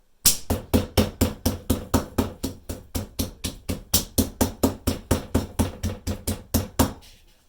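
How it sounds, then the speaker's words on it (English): Steady rhythmic pounding, about two dozen sharp thwacks of a meat mallet on steak, close and loud, with no talking. "you hammer the meat to break it down"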